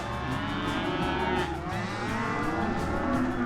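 A large herd of around a thousand cattle moos continuously on a trail drive, many overlapping lowing calls close and distant, steady and loud with no talk.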